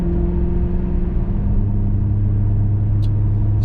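A Maserati GranTurismo being driven, with a steady low engine rumble and road drone filling the cabin and a couple of faint high clicks near the end.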